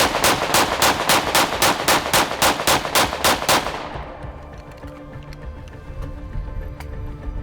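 A PSA Rock 5.7 pistol fires a rapid string of about fourteen evenly spaced loud shots, then the firing stops and faint range noise and echoes linger.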